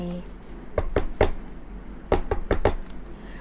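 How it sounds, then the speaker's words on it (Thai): Knocking on a bathroom door as an audio drama sound effect, two separate bursts of three or four sharp raps each, close and fairly loud, with no talk over them. "พี่ไปเคาะประตูถาม"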